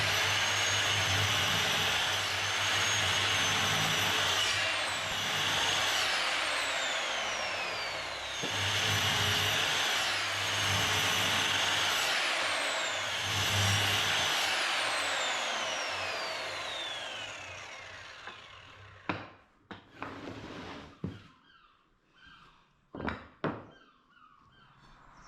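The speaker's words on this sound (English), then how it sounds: "let's cut these pieces of timber to size." Power saw cutting pieces of timber to size, three long loud passes with rising whine and buzzing cutting noise, followed by a few short knocks and clatters as the cut pieces are handled.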